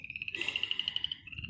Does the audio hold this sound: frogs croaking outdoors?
yes